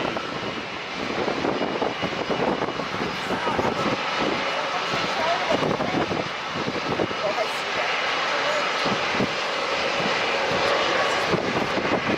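An Airbus A350-900 jet at San Diego International Airport gives a steady, loud roar of engines that holds for the whole stretch, with a voice talking faintly beneath it.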